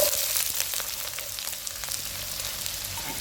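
Chopped onions frying in hot oil with cinnamon, cloves and cardamom for a chicken gravy, giving a steady, close broadband sizzle with a few faint clicks throughout.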